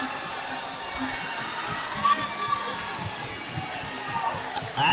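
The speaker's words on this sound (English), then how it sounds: "Ashley's got a big cheering squad." Loud crowd noise fills a karate event arena, a sustained roar of cheering for fighter Ashley with a few sharper shouts and claps rising near the end.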